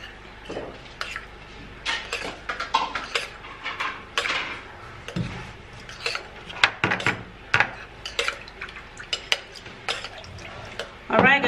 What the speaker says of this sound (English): And then mixing it all up together, just like this